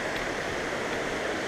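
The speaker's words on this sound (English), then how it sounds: "It looks like the pool for the waterfall right there." A waterfall on a hiking trail pours into a pool, giving a steady, dense rushing roar of falling water at constant loudness.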